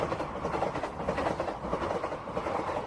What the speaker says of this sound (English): Oh man, it's another passenger train.